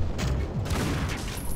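Bombs exploding in the shooter Painkiller, a dense rumbling barrage of overlapping low blasts filling a short stretch, loud and continuous with no talk.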